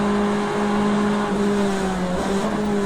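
Corvette race car engine at the Rolex 24 at Daytona, a loud steady drone with a sustained engine tone that dips and rises slightly, heard continuously without talk.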